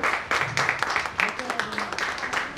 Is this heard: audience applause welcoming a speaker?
yes